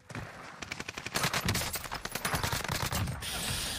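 Automatic gunfire in the battle-royale game Warzone on the Fortune's Keep map, rapid sustained bursts of shots in a dense rattling stream, loud and close, ending in a trailing hiss.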